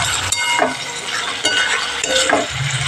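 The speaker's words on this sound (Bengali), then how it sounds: "আমি মশলাটাকে অনেকক্ষণ ধরে ভালো করে কষিয়ে নিচ্ছি।" Spice masala stir-fried in a pan for a Bengali potato and paneer curry: a continuous close sizzle with repeated scraping strokes of a spatula against the pan, no talking.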